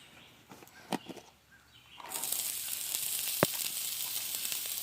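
Butter hits a hot griddle for Japanese fried rice: after a couple of sharp clanks and a quiet pause, a loud, steady sizzle swells up and holds, with one metallic tap.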